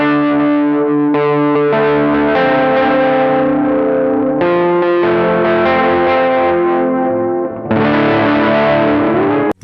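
Electric guitar played through a Void G fuzz and delay pedal with modulation and the gain rolled back, giving loud, sustained, thick chords that swell and shift over a wavering delay wash with no talking.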